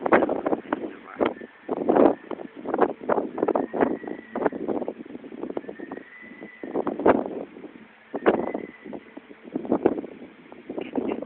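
Gusty wind during a storm at Aspley buffets the microphone in irregular rushing bursts that rise and fall unevenly, with brief lulls between the stronger gusts.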